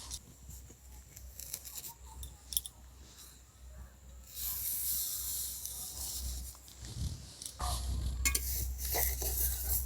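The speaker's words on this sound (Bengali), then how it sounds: "এবার ঢাকনাটা খুলে নেব।" A lid comes off a pan of steaming chitoi pitha with a faint metallic clink, followed by a broad, rising hiss of escaping steam and sizzling that carries on steadily to the end, close and moderately loud.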